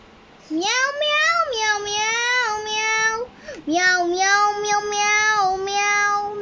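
A voice imitates a cat, giving two drawn-out, rising-and-falling meows in a row, close and fairly loud.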